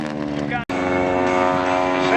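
A Harvard advanced trainer at an air show rounds a pylon in a left turn, its propeller engine droning loud and steady with harmonic tones, a brief dropout partway through and a commentator talking over it.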